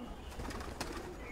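A black pigeon coos low and steadily among other birds, the soft murmur running throughout with one slightly louder burst midway; no voices.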